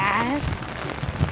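Heavy rain falls steadily as a close, even hiss of drops striking the surface, loudest throughout, with a voice briefly heard at the start.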